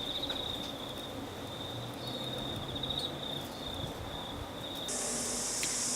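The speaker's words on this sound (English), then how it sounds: "in the background that's a cricket" A single cricket chirps in a continuous high, steady trill at midnight in February outdoors, with a broad hiss of other insects in a tree behind it and a brief burst of hiss near the end.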